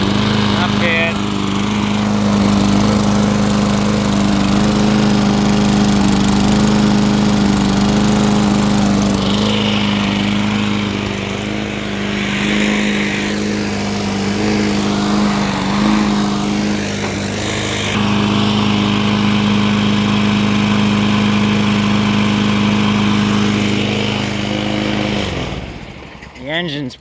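A 2003 Toro Recycler lawn mower engine running steadily after repair, a loud, close, continuous buzzing drone with a slight rattle, voices audible beneath, until it cuts off near the end.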